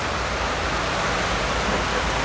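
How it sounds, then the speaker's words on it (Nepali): Heavy rain drums on a tin roof in a dense, unbroken roar that stays loud and even throughout, with no talking. "ठुलो पानी आयो"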